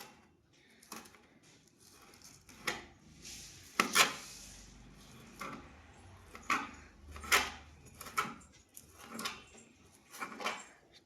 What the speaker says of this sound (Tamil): இப்போ ஸ்ப்ரிங் ஆனியனை கட் பண்ணிட்டு இருக்கோம்.